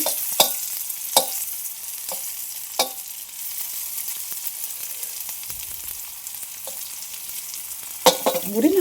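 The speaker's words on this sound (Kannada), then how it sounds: "ಈಗ ಎಣ್ಣೆಯೊಳಗೆ ಪೂರ್ತಿ ಫ್ರೈ ಮಾಡ್ಕೋಬೇಕು" Karchikai palya fries in oil in a pan, giving a steady background sizzle broken by a few sharp clicks of a spoon, with louder stirring near the end.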